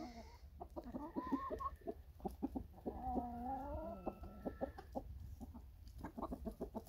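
Several hens on grass cluck and make drawn-out murmuring calls nearby, fairly quiet, with soft rustling in the background.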